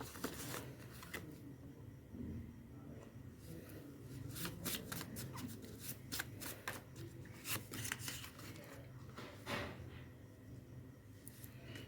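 A deck of oracle cards being shuffled by hand, a steady run of crisp riffles and soft slapping card flicks repeating at close range for the whole stretch, with no talking.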